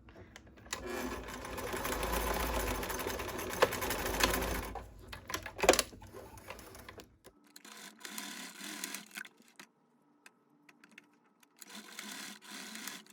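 Sewing machine running in a steady loud burst as it stitches small darts in fleece for a ghost plushie, then stopping, followed by quieter intermittent handling noises.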